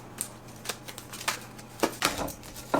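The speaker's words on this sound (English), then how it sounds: "And so you would shuffle the cards." A deck of tarot or oracle cards being shuffled by hand, a string of soft irregular riffling clicks and flicks, close and fairly quiet, with no talk.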